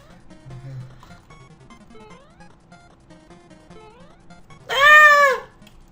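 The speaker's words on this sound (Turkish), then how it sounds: "Sakin ol kedi." Quiet background sounds give way to a single loud, drawn-out meow near the end, close and clear.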